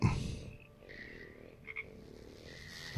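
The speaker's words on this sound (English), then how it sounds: "Frog." A frog in the video game SevTech Ages croaks in low, throaty bursts at the start and end, with a few chirpy, synthetic-sounding calls in between over a quiet ambient backdrop.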